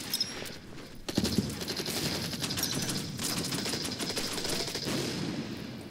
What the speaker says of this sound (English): Let's go ahead and open fire here with our artillery as well.